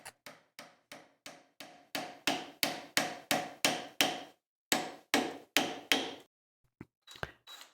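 A wooden wedge is hammered into the slot of a rustic mallet handle held in a vise: about eighteen sharp, evenly spaced blows that grow louder midway, followed by a pause and a few lighter taps.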